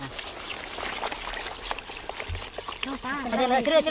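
Beaten egg pours and trickles into a bowl of caramel bread pudding cake mixture for a few seconds, and a voice starts talking near the end.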